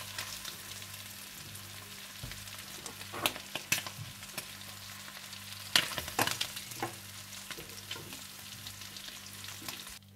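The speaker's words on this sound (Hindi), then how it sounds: "चार से पांच मिनट प्रॉन्स को फ्राई करने के बाद आप प्रॉन्स निकाल लें।" Prawns frying in oil for paella, a continuous fine sizzle with scattered spatula scrapes and taps, quiet and close, without speech.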